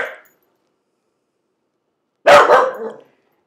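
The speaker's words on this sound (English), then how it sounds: "my apologies for the barking" Sam, a dog, lets out one loud, close bark after a stretch of silence.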